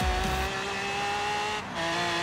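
A Dodge Viper engine in the racing game Forza Horizon 3 holds a steady, loud, even drone for the whole stretch, with no speech over it.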